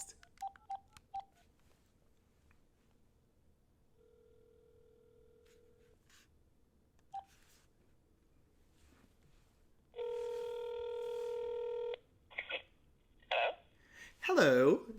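A telephone call is placed: short keypad beeps, a steady tone, a quick series of dial tones, then a long electronic ring burst and further tones, with brief speech-like sounds mixed in.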